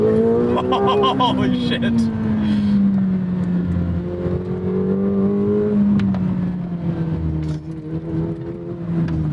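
A 2024 McLaren 750S accelerates in sport and track mode, its engine note climbing and shifting through rising harmonics, close and prominent, while someone talks and exclaims over it.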